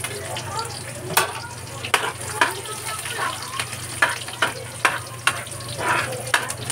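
Onion and garlic sauté in a hot pan, a steady low sizzle punctuated by sharp, regular utensil clacks and scrapes as they are stirred, close and fairly loud.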